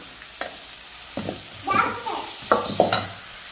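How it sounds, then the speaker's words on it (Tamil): Onions and green chillies sautéing in a pan for a potato sabji, with a soft steady sizzle under spoon scrapes and stirring knocks that come in short bursts, close and moderately loud. "வெங்காயம் நல்லா போட்டு வெங்காயத்தை நல்லா வதக்கணும். அப்புறம் இந்த பச்சை மிளகாய் போட்டுக்கலாம்."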